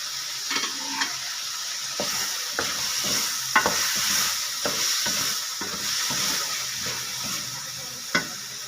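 Tomatoes and green chilies sizzle in a frying pan for methi chicken while a utensil stirs and scrapes in irregular strokes, with occasional soft clinks.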